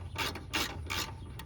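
Rusty wheel stud on a 1993-2010 Ford Ranger, with a nut spun back and forth along it, giving three soft gritty ratcheting bursts at a steady rhythm, close and fairly quiet.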